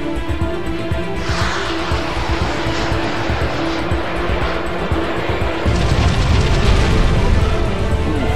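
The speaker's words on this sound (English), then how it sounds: "her engines roared to life, lurching the ship forward" The Sunrider spaceship's engines roaring to life in the game Sunrider: a steady mechanical drone with a rising whoosh, then a louder, rougher rumble surging in near the end.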